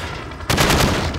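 Automatic hip-fire from a gun in Call of Duty Modern Warfare, a dense continuous burst of rapid shots that starts abruptly after a brief quiet moment and holds loud and steady to the end.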